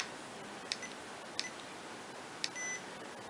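Short electronic beeps from an Olympus VN-541PC digital voice recorder, three faint separate chirps spread over a quiet hissy background, with no talking.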